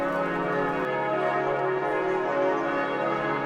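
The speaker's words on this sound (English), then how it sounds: "I'm not sure if you can hear me over the bells" Bells of Strasbourg cathedral ring steadily up close, a continuous layered clang of sustained tones with no talk heard.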